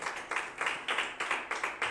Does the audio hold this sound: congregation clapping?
yes